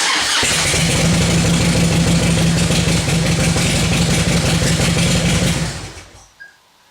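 Motorcycle engine cranking over fast and strongly on a brand-new MX3L battery, a loud steady whirring churn that runs for about six seconds, then stops abruptly with a brief rattle.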